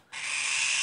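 A harsh, continuous hissing screech from a cucak keling bird starts abruptly and holds steady, close and fairly loud.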